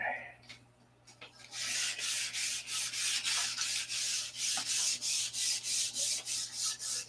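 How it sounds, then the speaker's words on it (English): Steady back-and-forth strokes lightly sanding a molded block, about a dozen in an even rhythm, rasping close by with no talking. "So I'm just going to give it a light sanding"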